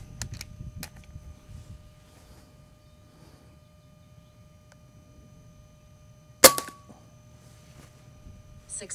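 Umarex air gun firing Brimstone pellets: one sharp, loud pop with a short metallic ring afterward, set in a quiet room with a few faint clicks and handling sounds before and after.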